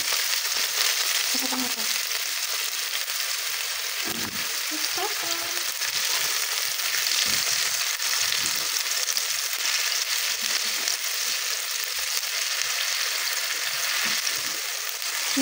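Tomato hitting hot cooking oil for sautéed sardines with cabbage gives a steady, close sizzle that fills the whole stretch, with brief stirring clatter and a short spoken phrase.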